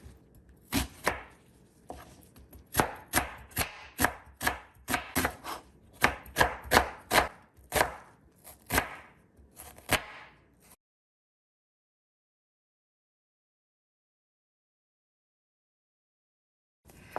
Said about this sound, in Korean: 양파 200g도 중간에 반으로 자른 다음에 채를 썰면 좋겠네요